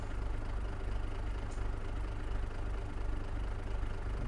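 A rear steer tractor idles in Farming Simulator 22, giving a steady, even low engine drone that holds without change, with no voices over it.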